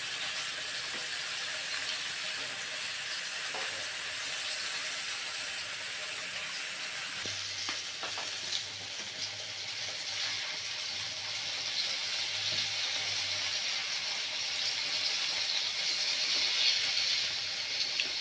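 Fish frying in cooking oil in a pan, a constant bright sizzle and hiss that runs throughout, with a low bubbling undertone joining partway and no voices.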